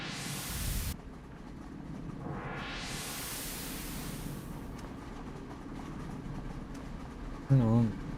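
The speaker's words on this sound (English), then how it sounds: "There's the train." A train in the video game City of Heroes rushes by with a rising and falling whoosh, a sweeping noisy roar that builds and fades over several seconds against a low steady rumble, ending in a short thump.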